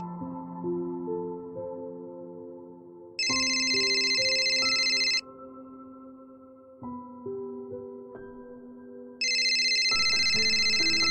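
An electronic telephone rings in bursts, bright trilling tones alternating with a sequence of steady melodic beeps, clear and fairly loud with no voices.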